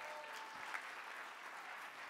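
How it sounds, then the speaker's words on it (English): Gala audience applauding at a university scholarship and awards dinner, a continuous even patter of many hands, fairly faint and distant in a large room. "So another round of applause for Ada Ye"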